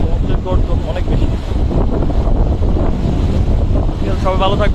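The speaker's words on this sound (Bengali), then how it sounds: "গুড়ি গুড়ি বৃষ্টি এবং সমুদ্রের গর্জন অনেক বেশি।" Rough surf pounds and roars beneath gusting wind during Cyclone Remal amid light drizzle, a loud, unbroken wash of waves with heavy wind buffeting close to the microphone.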